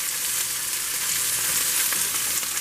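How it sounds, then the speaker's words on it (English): Steady, dense sizzling of food frying in a hot pan, a continuous crackling hiss with no talking. "Put it in the frying pan."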